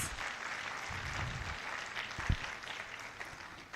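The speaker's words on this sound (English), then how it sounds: "shall we give the Dean one more round of applause?" Faint, distant applause from an audience for a dean at a university orientation programme, a soft steady patter of clapping with a brief thump midway.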